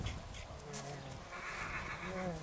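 Several horses at a Romanian village horse gathering neigh and whinny in short bursts, fairly close. People talk over and between the calls.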